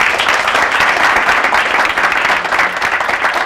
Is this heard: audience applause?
yes